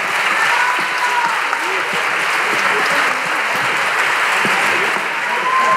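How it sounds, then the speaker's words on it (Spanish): Sustained applause from a carnival audience at a 2024 gathering of carnival groups, dense and even clapping holding at a steady loud level from start to finish. "Muchísimas gracias por vuestras palmas."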